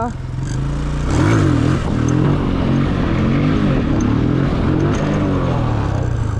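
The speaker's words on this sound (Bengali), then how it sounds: "আমি তাহলে একটু হুইলি মারতে মারতে যাই" A motorcycle revs loudly and close while popping a wheelie in a stunt ride, the engine note swelling and dipping repeatedly in a wavering drone that runs the whole time.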